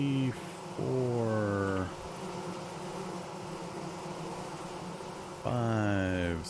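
Bees in the Vintage Story survival game, droning buzz that swells loud in two bursts with a fainter hum between, while someone talks over it.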